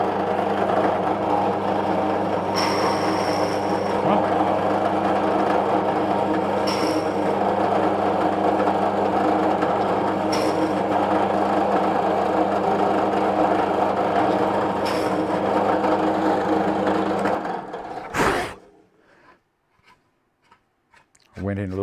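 A router table with a small bit cuts wood in a steady, loud, close whine that runs for most of the stretch, then cuts off and winds down to near silence.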